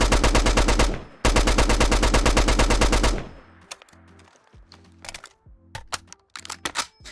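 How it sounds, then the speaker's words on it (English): STG-44 assault rifle from a Fallout 4 weapon mod fires two long, loud full-auto bursts, then a stretch of sporadic single shots and short bursts with metallic mechanical clicks between them, with no speech. "as well as some beautiful firing sounds"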